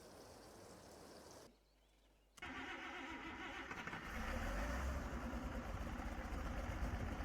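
A tractor's diesel engine cranks and fires up in Farming Simulator 22, settling into a steady idle that grows louder after a short gap of near silence.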